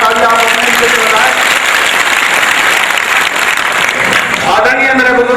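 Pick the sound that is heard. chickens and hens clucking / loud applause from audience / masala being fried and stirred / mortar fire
loud applause from audience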